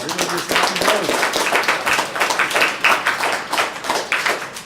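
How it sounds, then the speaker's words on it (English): Audience applause at a City of Albuquerque mayoral news conference, a steady round of many hands clapping that stays loud and fairly close for the whole stretch with no talk over it. "Let's give them a round of applause."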